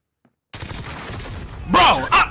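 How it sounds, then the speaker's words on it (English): Close gunfire in Modern Warfare Warzone starts after a short silence as a steady burst of shots, ending in a couple of loud impacts with a voice mixed in. "I'm getting shot on my back"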